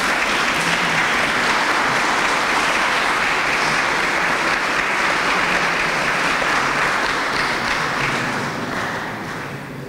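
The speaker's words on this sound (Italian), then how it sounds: "Stava partendo un applauso e mi sembra che ci stia proprio bene" An audience bursts into sustained applause at an Italian talk on generating freedom, a dense, even wash of many hands clapping for about ten seconds and easing slightly at the end, with no voices over it.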